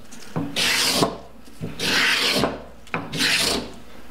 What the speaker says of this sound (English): I'm starting to pull off plain style shavings.